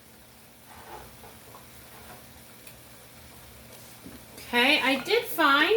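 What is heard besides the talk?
asparagus cooking in a pan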